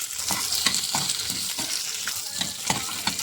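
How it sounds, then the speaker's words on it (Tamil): Chopped onion sautés with garlic and ginger in a pan, giving a close, busy sizzle broken by rhythmic scraping strokes of stirring. "ஒரு பெரிய வெங்காயம் கட் பண்ணியிருக்கேன், இதையும் போட்டு வதக்கிக்கலாம்."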